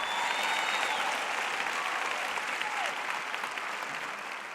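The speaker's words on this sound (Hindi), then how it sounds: "आइए उसके लिए ताली बजाएं" Audience applause during a Hindi Christian sermon, a dense steady clapping from a sizable crowd lasting several seconds and slowly fading slightly, with no speech over it.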